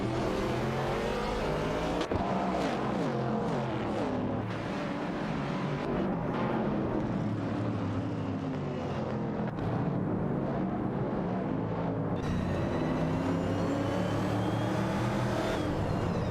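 Race cars in a racing video game, including a Nissan R382 and McLaren Mighty C, roar continuously around the track, engines revving and shifting pitch as several cars battle closely, loud and steady throughout.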